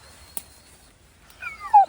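Truffle hunting dog letting out a short, thin whimper near the end, a rising-and-falling whine preceded by a faint click in an otherwise quiet setting.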